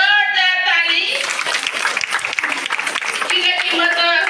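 A congregation at a ladies' fellowship church gathering breaks into loud, dense applause, with a voice heard before the clapping swells and again as it fades.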